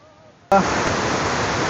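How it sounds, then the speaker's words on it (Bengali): Khoiyachora waterfall's first tier in Mirsarai, Chittagong, water pouring in a steady broadband roar that cuts in abruptly after a quiet half second and then holds loud and even. "খোয়াছড়া ঝর্ণার প্রথম ধাপ, মানে খুবই আসলে বিপজ্জনক একটি ঝর্ণা।"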